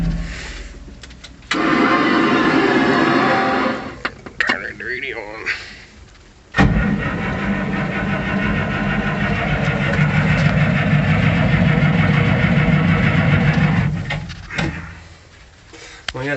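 An old semi truck with a high-low transmission, used for hauling manure, cranks briefly, catches and rumbles into a rough, steady idle nearby, with a clunk and a short pause before the engine settles.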